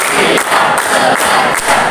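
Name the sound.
rhythmic class clapping chant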